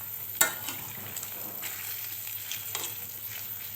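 Noodles with beef frying in a pan over medium heat, a soft steady sizzle with occasional stirring scrapes and one sharper clatter near the start, close and quiet with no talking.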